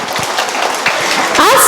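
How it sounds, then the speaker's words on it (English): Audience applause for the chief guest at a school pre-primary annual day, a loud continuous wash of clapping with a voice rising over it toward the end. "Kindly give our chief guest a thundering round of applause."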